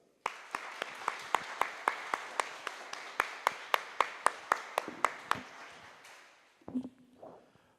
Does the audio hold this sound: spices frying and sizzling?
no